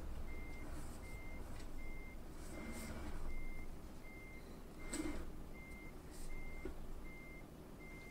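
Repeated electronic reversing beeps from a truck in Euro Truck Simulator 2 as it backs a trailer into a parking spot, steady evenly spaced tones over a low diesel engine rumble.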